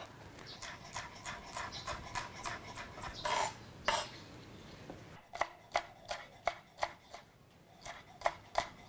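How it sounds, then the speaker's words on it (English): A knife chops chili into small pieces on a board, a run of quick, crisp taps close by, pausing briefly, then a sharper, more spaced series of cuts, with no voices. "The first thing I'm going to do is cut the chili into small pieces."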